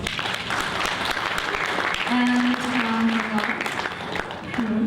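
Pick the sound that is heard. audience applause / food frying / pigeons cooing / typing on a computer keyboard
audience applause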